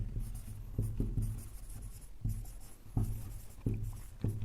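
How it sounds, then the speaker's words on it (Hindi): Writing on a board during a math lesson, with repeated short scratchy strokes in quick irregular bursts, close and fairly clear, with no talking over it. "तो यहां पे हम लिखेंगे मिनिमम डिस्टेंस"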